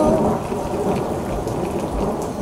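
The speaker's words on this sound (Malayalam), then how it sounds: "മാളവത്തിൽ മഴ ചീറിയലയ്ക്കുന്നു." Steady heavy rain with rolling thunder rumbling low beneath it, a dense continuous storm sound evoking monsoon rain over Malwa, with no voice in this stretch.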